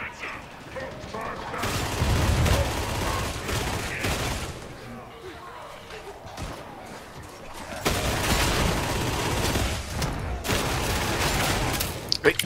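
Shotgun fire from enemy shotgunners in the video game Warhammer 40K Darktide, with loud repeated blasts and mechanical clatter in waves, alongside a heavy low rumble and other battle noise.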